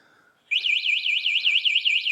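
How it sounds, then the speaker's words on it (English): A Gleeride e-bike's anti-theft alarm goes off abruptly and loudly, a rapidly warbling electronic siren that sweeps up and down in steady cycles, close and alone after a brief quiet moment. "And now what that does, it turns on the alarm."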